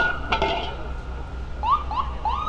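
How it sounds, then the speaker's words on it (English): An ambulance siren on a New York City street, heard as a few rising wails at middling distance over steady traffic rumble and a sharp knock. "we got the ambulance coming"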